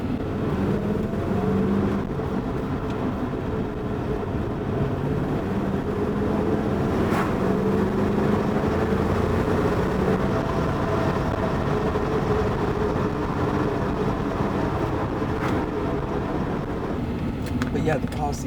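Interior drone of a Porsche 928 GT being driven, a steady road and engine rumble that stays constant throughout, with a faint voice now and then.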